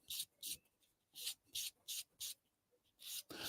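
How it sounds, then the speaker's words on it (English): Short, brisk strokes of sandpaper rubbing on a small scale-model part, about eight quick scratchy bursts in an uneven rhythm, close and fairly quiet. "sanding seams or sanding parts like this."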